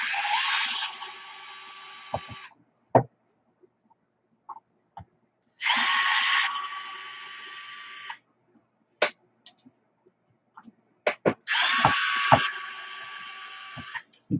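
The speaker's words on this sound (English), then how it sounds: "I'm gonna have to take a grinder and take off a little of those ends" Grinder trimming the uneven ends of RC car foam tires, Pro-Line F11 and Hoosier style drag foams, comes in three loud whining bursts of about two seconds each with small clicks and taps in the quiet gaps.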